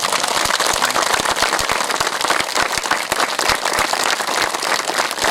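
A crowd claps vigorously at an inauguration ceremony, giving a dense, loud, continuous burst of applause with sharp individual claps standing out and no talking over it.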